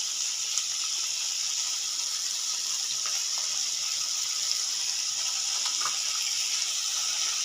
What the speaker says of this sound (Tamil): இந்த மசாலா சேர்த்து நல்லா கிண்டி விடுவோம்.